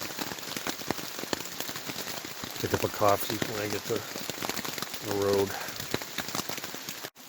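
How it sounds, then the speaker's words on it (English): Heavy rain drums steadily on a campsite tent during a wet morning, a dense close patter running throughout while someone speaks over it. "it's raining pretty hard, so it's going to be a wet morning hike out"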